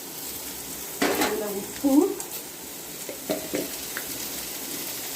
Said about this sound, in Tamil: அதில் வந்து நம்ம பாதி கொத்தமல்லி, பாதி கருவேப்பிலை, இந்த தக்காளியை போட்டு நல்லா வதக்கிக்கணும்